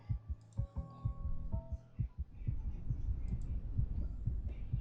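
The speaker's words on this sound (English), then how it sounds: "God, the heartbeats." Repeated heavy thumps of a heartbeat sound effect in the horror game Return to Fear, irregular at first and then quickening into a dense, low throbbing that stays loud and close, with no voices.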